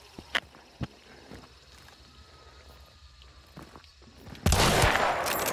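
Gunfire in the game Hunt: Showdown: a few sharp single shots early, then a sudden loud, dense burst of firing near the end over faint background ambience.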